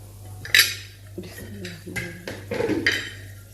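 Metal pot clatter and a brief hot sizzle as a tadka tempering with chopped chillies is poured into a pot of kadhi pakora, with a person speaking throughout.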